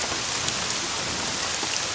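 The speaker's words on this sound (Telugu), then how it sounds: "ఎక్కడ తెచ్చాడు వీడు ఈ వర్షం ఒకటి?" Rain falls steadily, a dense, even hiss of drops hitting surfaces that holds constant throughout, with no voices over it.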